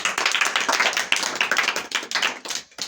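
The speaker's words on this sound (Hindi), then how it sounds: "Very good, Tali बजाइए।" An audience at a stage show bursts into dense, steady clapping, many hands beating fast and close together for about three seconds before tapering off near the end.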